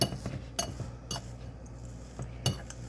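Spoon scraping and clinking around a bowl while breakfast cookie dough, made without sugar, butter or eggs and gluten free, is stirred; irregular knocks and scrapes, close and fairly quiet, with no talk.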